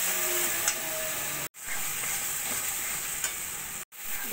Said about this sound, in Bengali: দই দিয়েও দইটা ভালো করে মশলার সঙ্গে কষিয়ে নেব।